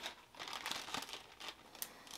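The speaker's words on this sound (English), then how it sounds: "put it in a plastic bag" A plastic bag is crumpled and pressed closed around a rag, giving close, crisp crinkling in repeated bursts with nothing else heard.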